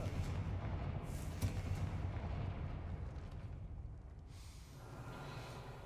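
A Confringo blasting spell from a Harry Potter video game detonates as a deep, rolling explosion that rumbles on for several seconds and slowly fades, with no voices.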